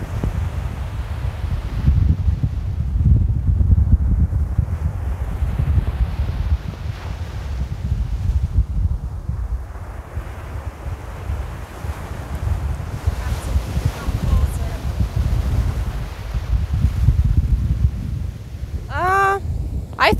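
Ocean surf and gusting wind at Brighton Beach, Coney Island, New York: a continuous low roar of waves with wind buffeting the microphone, swelling and easing in broad surges over twenty seconds, close and loud, with a brief high chirp near the end.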